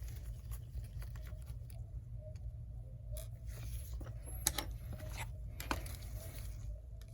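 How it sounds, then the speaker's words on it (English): A Torx 8 screwdriver backs out small screws on a MacBook Air, faint scattered ticks and light ratcheting clicks over a low, quiet hum, with nobody speaking. "get this Torx 8 screwdriver. Go ahead and remove the 2 screws"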